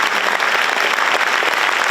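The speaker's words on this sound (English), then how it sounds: "Let's give one more big, big round of applause to everyone who performed, spoke tonight" Sustained audience applause at a high school arts centennial celebration, a dense, steady wash of clapping from a large crowd filling the room at full volume without pause.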